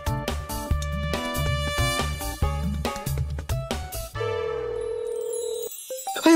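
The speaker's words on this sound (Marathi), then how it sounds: "वाजला वाजला. यो फोन तिचाच असणार आहे." Mobile phone ringtone playing loud and close, a rhythmic electronic melody with repeated beats that shifts into a sustained tone and fades near the end, with no talking over it.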